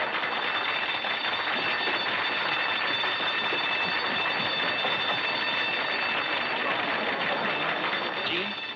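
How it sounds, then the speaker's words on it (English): A burglar alarm at a mine rings continuously in a 1938 western film, a shrill, unbroken jangle held at a constant level for the whole stretch. "I fixed the burglar alarm so it'll go off if they busted the door."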